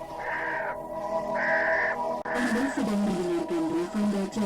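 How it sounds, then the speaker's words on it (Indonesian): A crow caws in repeated, evenly spaced calls, loud and near, over a steady background hum, followed by more varied warbling bird calls. "Nimas Wilantika, burung ini menyuruh pergi sebentar."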